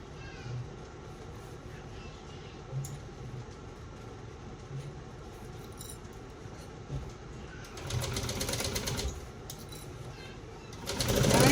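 A sewing machine runs steadily, stitching a shoulder bag seam at a 5/8-inch allowance, with a continuous mechanical whir that swells louder toward the end.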